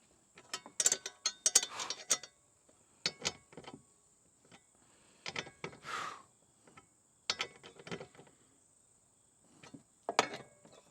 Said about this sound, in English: tighten these bolts